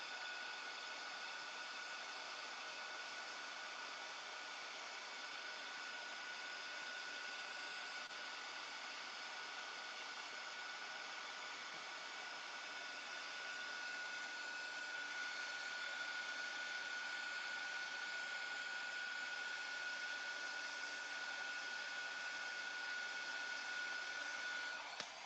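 A heat tool blows steadily for about 25 seconds, drying wet black distress ink on craft paper. Its even, whooshing hum stays loud and constant, and a thin whine creeps in during the second half.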